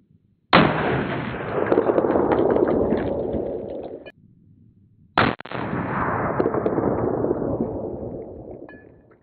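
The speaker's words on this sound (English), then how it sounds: "We have some M80 ball ammo coming out of our SCAR 17." Two loud rifle shots of M80 ball .308 ammunition fired from a SCAR 17 strike steel armor plate, each a sharp crack with a ringing, slowly decaying metallic tail, about five seconds apart.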